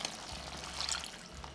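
Water poured into a cooking pot over tomatoes and spices while making Odia khada besara, a steady low splashing and trickling flow, fairly quiet and close, with no talk.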